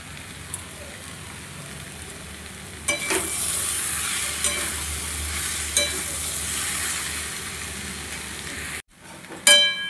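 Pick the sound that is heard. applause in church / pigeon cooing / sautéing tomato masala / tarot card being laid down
sautéing tomato masala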